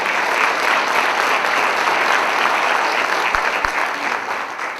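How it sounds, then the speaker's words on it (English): Sustained applause from an audience at a school district town hall, honoring two school police officers; dense, even clapping fills the whole stretch with a couple of faint thumps near the end. "Round of applause for them."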